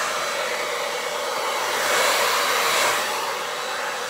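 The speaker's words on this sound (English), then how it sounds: "a cold blast of the low setting of your blow dryer" A hair dryer on its low, cool setting blows steadily with a broad, airy whoosh, swelling slightly louder midway before settling back to an even hum.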